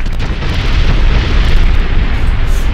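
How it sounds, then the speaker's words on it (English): Dynamite blast rendered as a loud, sustained explosive roar with deep rumbling low end that holds steady for a few seconds, no voices over it. "Throw dynamite in there."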